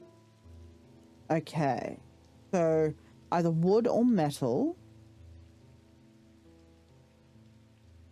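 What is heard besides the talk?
rain in the video game Strange Antiquities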